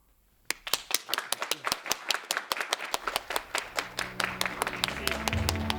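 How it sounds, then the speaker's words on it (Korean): Scattered individual claps begin and quickly build into sustained applause welcoming a speaker at a diplomatic conference, heard close and growing fuller toward the end. "박수로 맞아주십시오."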